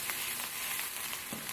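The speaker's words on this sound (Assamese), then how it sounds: "নহৰু আৰু আদাৰ কেঁচা স্মেলটো যোৱালৈকে অলপ সময় ভাজি লম মিডিয়াম ফ্লেমতে" Ginger garlic paste frying in oil over a medium flame, a steady close hiss of sizzling with small crackles and faint stirring, no voices.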